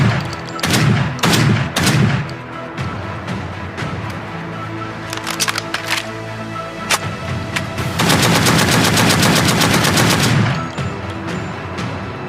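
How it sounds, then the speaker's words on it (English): Bursts of MP9 submachine gun fire from the game PUBG, several rapid automatic volleys with short pauses, then one sustained loud stream of shots near the end, sharp and close with no talking. "a new high-powered SMG,"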